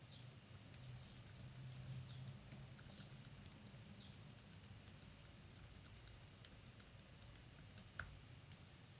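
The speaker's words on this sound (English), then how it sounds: "a recording where you have not talked while you're typing" Soft, scattered key clicks from typing on a computer keyboard with no talking, faint and close over a steady background hiss.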